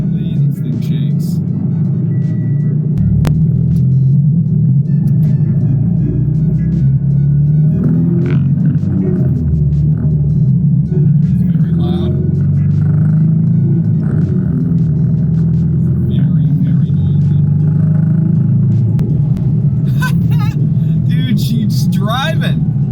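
A Subaru BRZ with a swapped-in K24 engine drives along, giving a loud, steady, deep rumble from inside the cabin with road noise underneath, while someone talks over it throughout.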